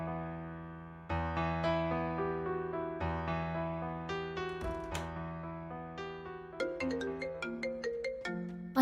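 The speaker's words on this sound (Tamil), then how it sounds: "அந்த ஃபோன் எடு." A phone plays its ringtone alone: a bright electronic melody of clear, repeating notes that shifts pitch and grows busier toward the end.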